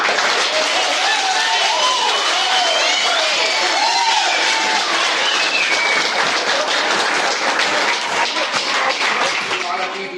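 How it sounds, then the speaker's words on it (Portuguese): Dense, sustained applause from an audience at a lecture and trophy ceremony, a loud continuous wash of many hands clapping for about ten seconds that tapers slightly at the end. "uma salva de palmas para o nosso mestre"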